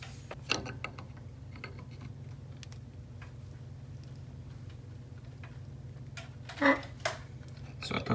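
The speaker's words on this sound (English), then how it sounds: "I'll go ahead and tighten up the jam nut once everything looks nice and level with the sway bar right here." A jam nut is tightened on a Jeep JK sway bar quick disconnect, with faint intermittent metallic clicks and ratcheting ticks over a low background hum, a few sharper clanks near the end.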